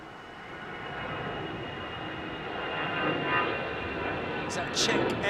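A Czech Airlines jet with CFM56 engines departs Heathrow runway 27R. A moderate engine roar builds gradually under intermittent nearby talk.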